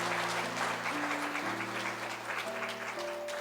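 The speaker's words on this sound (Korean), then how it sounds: "우리 큰 박수로 축하해 주시기 바랍니다." A church congregation claps together in steady, even applause while sustained organ or keyboard chords play underneath, throughout the short stretch.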